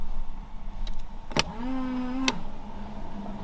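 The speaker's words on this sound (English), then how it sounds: "I definitely hear some sort of pump." A pump whirs steadily on a Mitsubishi Evo 3 as its intercooler water sprayer runs, framed by two sharp clicks, with a faint continuous hum in between and no talking.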